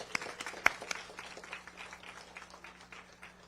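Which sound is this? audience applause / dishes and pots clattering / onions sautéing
audience applause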